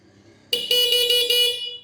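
A Honda CG125 motorbike modified in RX100 style sounds its horn: a loud, bright, steady electric honk starting abruptly after a quiet moment and held for over a second with slight pulsing.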